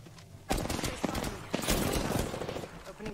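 Rapid automatic gunfire rattles in sustained loud bursts during an Apex Legends ranked match, close and continuous after a brief quiet start, with a voice speaking over it.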